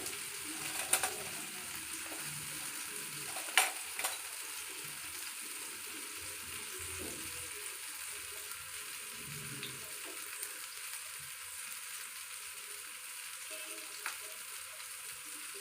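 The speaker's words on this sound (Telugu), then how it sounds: "కర్రీ పైన ఇలా కొంచెం కొంచెం ఆయిల్ వేసుకుంటూ అన్ని సైడ్లు కూడా చుట్టూ కాల్చుకోవాలి" Spicy fish fries in a little oil on a flat chapati pan, a steady soft sizzle with occasional faint clicks of a spoon, no voices.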